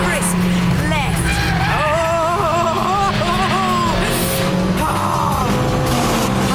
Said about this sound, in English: Into the S's, onto the brakes, third gear, heel and toe down, turn in, nice and crisp, left.